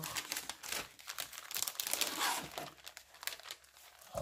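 Orange paper with tabs rustles and crinkles up close as a parcel is unpacked, a run of irregular crackling and crumpling bursts with brief pauses between handlings.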